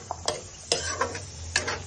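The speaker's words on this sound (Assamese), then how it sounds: "চাইনিজ চিকেনৰ মাংসখিনি ভাজি আছো" Chinese-style chicken pieces fry in soy sauce in a pan: a low, steady sizzle broken by several sharp scraping stirs at irregular intervals, close and clear, with no voices.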